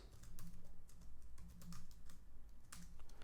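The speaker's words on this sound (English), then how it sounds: "I'm going to go ahead and type out my words of choice." Fingers tap rapidly on a computer keyboard, a close, quiet stream of irregular key clicks with brief pauses and no voices.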